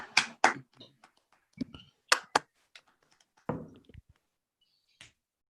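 Online seminar attendees unmuting and clapping: sparse, uneven bursts of hand claps from a few people over calls, each burst brief and separated by near silence, with a faint voice at moments.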